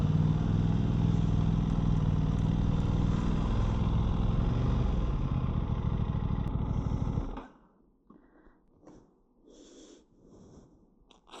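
An Aprilia RS660 sport motorcycle rides through a rooftop car park. A loud, close, steady engine roar fills the first seven seconds, then cuts off abruptly and leaves faint, scattered low sounds.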